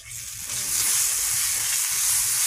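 Green chilies dropped into hot oil and spice masala for a fish curry set off a steady, loud sizzle and crackle that swells and holds, with faint stirring underneath and no talk.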